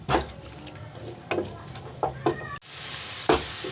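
Onion frying in oil and ghee with masala in a home kitchen: faint sizzling with soft scraping stirs recurring every second or so, a short break, then a louder steady hiss.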